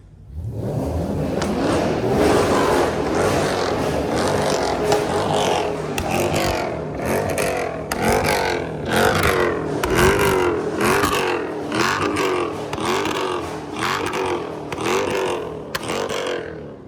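A tuned Dodge Hellcat roars along streets at night, its engine surging and revving steadily with repeated throttle pulses and gear changes, loud and close throughout with no voices.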